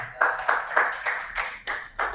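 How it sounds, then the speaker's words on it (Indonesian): A classroom group claps together in slow unison bursts, about eight evenly spaced rhythmic claps at moderate loudness, with no talking over them. "Beri tepuk tangan untuk Meliza"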